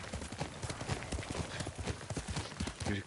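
A horse's hooves clip-clop steadily in the video game Ghost of Tsushima, a quick even rhythm of hoofbeats close by over a dense background.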